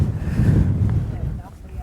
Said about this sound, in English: It is definitely getting a bit windy